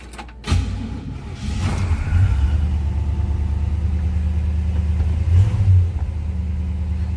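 A 1957 Chevrolet Bel Air two-door hardtop with a 283 V8 cranks briefly, catches and settles into a smooth, steady idle rumble, close and loud, with a slight blip of revs near the end.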